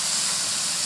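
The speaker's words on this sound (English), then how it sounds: "Look at them burgers sizzle." Burgers sizzle on a grill with a steady, bright hissing crackle, close and continuous.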